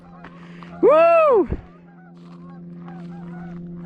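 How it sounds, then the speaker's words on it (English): A Canada goose gives one loud, close honk lasting about half a second beside an ice-fishing spot on a frozen lake, followed by a quieter hum of background noise and a faint whoop from a person. "Canada goose already here."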